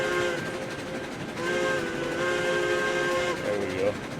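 A steam locomotive whistle in RailRoads Online sounds in long sustained blasts, harmonic and echoing as if off canyon walls, over a steady rumbling train bed; the last blast dips in pitch.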